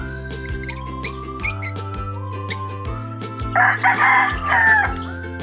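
A rooster crows loudly nearby, one drawn-out call standing out over scattered chirping birds and a steady low hum.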